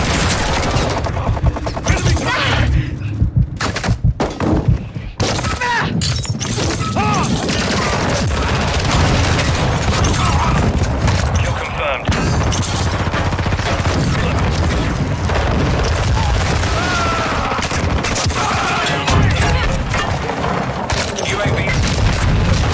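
Heavy gunfire in Call of Duty: Modern Warfare II, with loud booming blasts and rapid bursts of shots packed densely across the whole stretch, mixed with explosions and crashing game effects and occasional talk underneath.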